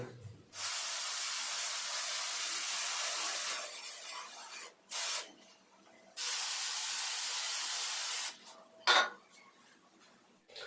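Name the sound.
adhesive spray being sprayed for acoustic foam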